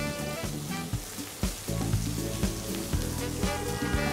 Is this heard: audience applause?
no